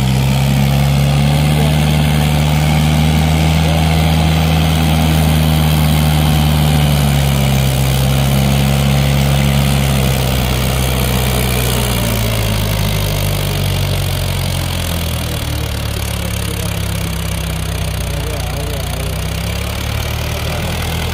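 A Mahindra 585 DI tractor engine runs loudly and close under power on a difficult climb, holding a steady low drone whose pitch dips and shifts as the load changes, with no voices.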